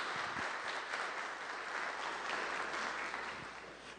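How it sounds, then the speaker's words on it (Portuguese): Sustained applause from a church congregation, steady and moderately loud, tapering slightly at the end. "E dê uma forte salva de palmas para o Senhor Jesus."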